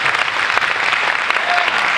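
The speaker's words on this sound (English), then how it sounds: "you can clap if you'd like" A graduation audience claps steadily for a Class of 2024 ceremony, a dense, even wash of many hands filling the space without pause for the full two seconds.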